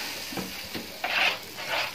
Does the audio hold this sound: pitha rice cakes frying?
yes